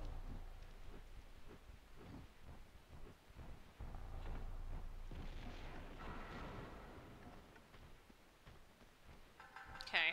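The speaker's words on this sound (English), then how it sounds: "Just gonna grenade him." A grenade goes off in the Tomb Raider 2 video game as a low, booming rumble that swells for several seconds and then fades, ending with a sharper burst.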